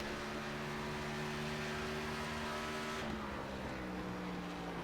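A race car engine in the iRacing sim holds a steady, dense drone as the car exits a corner on the Miracle Mile, with a tonal shift partway through as the throttle opens, continuous and alone without talk.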